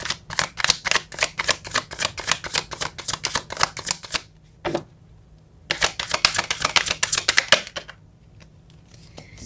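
Tarot cards are shuffled in two quick bursts of rapid, crisp riffling clicks, close and alone, separated by a short pause and a soft tap.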